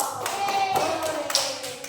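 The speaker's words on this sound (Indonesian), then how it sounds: "Beri tepuk tangan buat ketua kelompok." A classroom full of students claps for their group leader, a dense burst of hand-clapping that carries steadily through the whole moment at moderate loudness.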